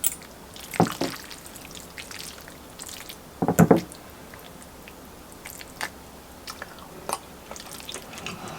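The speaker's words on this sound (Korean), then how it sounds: "그럼 제가 한번 먹어보겠습니다" Someone eats bacon and shrimp cream sauce pasta, with a few soft chewing and slurping bursts near the microphone against a quiet room background.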